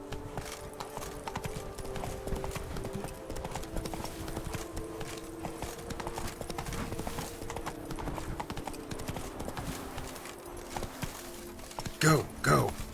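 Roach, the horse in The Witcher 3: Wild Hunt, clip-clops at a steady rhythmic gait throughout, hoofbeats fairly close, ending with a short whinny near the end.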